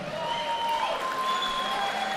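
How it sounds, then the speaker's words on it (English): Steady crowd applause at a fight night event, continuous and fairly loud clapping from a large audience, with a faint steady tone above it and no talk. "So give them a big round of applause,"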